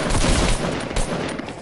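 Rapid, dense gunfire in a shooter video game: loud overlapping bursts of shots sustained throughout, with no talking.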